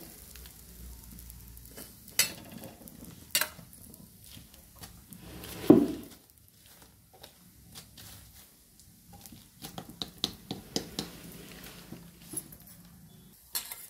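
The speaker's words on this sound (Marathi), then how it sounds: "अशा प्रकारे भाजून पोळ्या घ्यायच्या तेलाने" Puran poli flatbread roasting in oil on a pan, a quiet, crackly sizzle with scattered soft taps and scrapes of turning, close and low in level, with no talk.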